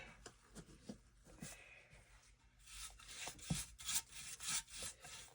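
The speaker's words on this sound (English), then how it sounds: "I'm going to go in all directions with this wax. I'm using a chip brush" Chip brush scrubbing black wax onto a swan figure, short bristly rubbing and scraping strokes in an irregular rhythm, close and fairly quiet, growing busier and louder toward the end.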